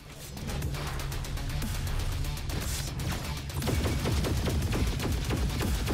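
Gunfire in the shooter video game Roboquest, with rapid repeated shots in a steady fast rhythm over a busy background, growing more intense partway through.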